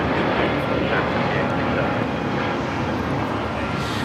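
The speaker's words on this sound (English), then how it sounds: "This is Frontier 4964 taking off to Dallas Fort Worth on the A321neo" Frontier Airlines A321neo jet taking off from LAX bound for Dallas Fort Worth, a steady, broad engine roar that holds at a constant loudness throughout, with people talking faintly in the background.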